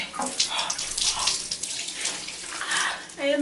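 Shower water runs steadily while hair is washed, a close hissing spray with splashes and shifting flow, and a voice briefly over it.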